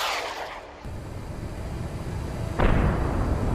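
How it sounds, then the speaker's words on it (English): A TOW missile launches from a Bradley fighting vehicle in combat, heard as a low rumbling roar that swells into a loud, harsh broadband blast near the end, with no voices. "It launches a TOW missile."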